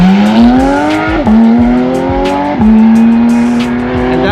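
A Porsche 911 of the 991.2 generation with a PDK gearbox pulls away from a car meet, its engine rising loudly through gears with two sharp, quick upshifts and no talk over it.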